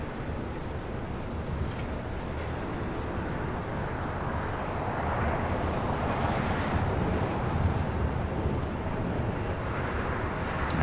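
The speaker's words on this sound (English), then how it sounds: "So we got Japan Airlines, the flight heading back to Osaka, Japan" A Japan Airlines jet bound for Osaka moves at LAX, heard as a steady, broad engine roar that swells slightly midway, mixed with outdoor wind noise and no speech.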